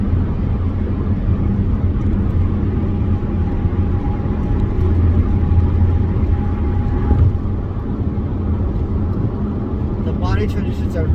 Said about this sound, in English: it is a very good motor. It's growly to me, that's how I hear it.